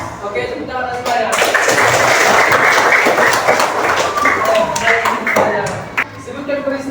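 A fourth-grade class at a public elementary school breaks into loud group clapping that swells and holds for several seconds before thinning into scattered claps, with children's voices mixed in.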